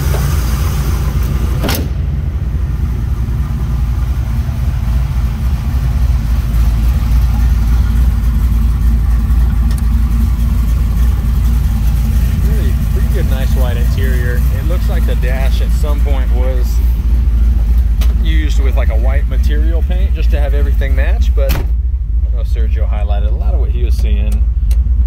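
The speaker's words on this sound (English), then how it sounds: "Really good sound through the exhaust." A 1969 Chevrolet Camaro's engine and exhaust give a steady low rumble while it drives a lap around a parking lot. A voice talks over the drone in the second half.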